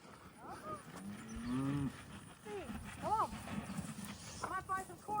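A cow on a farm moos several times, one long low call followed by shorter ones, while a person talks nearby and hooves shuffle in the background.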